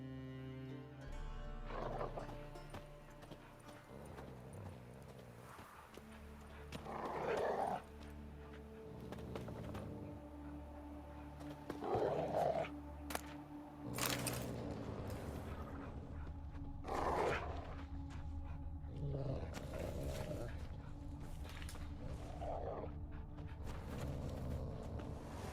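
Dogs in a video game bark and snarl in repeated rough bursts that rise over a steady droning background of ambient music.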